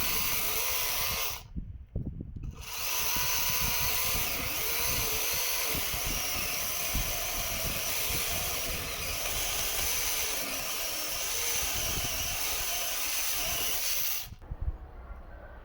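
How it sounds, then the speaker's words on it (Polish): A steady, loud whine from a Delphi DT-CS-01 cordless chainsaw cutting wood runs continuously, cutting out briefly early on and stopping near the end, with a harsh hissing edge. "Pilarka również zetnie drzewo o średnicy 12 lub 13 cm średnicy"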